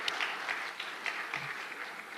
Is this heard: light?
yes